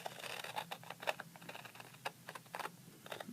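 Scissors cutting a paper triangle by hand, giving close, quiet, irregular snips and crisp clicks in a slow, deliberate rhythm, with no voices.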